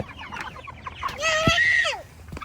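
Chickens in a backyard flock cluck close by, with one longer, louder squawking call in the middle and softer clucks before and after.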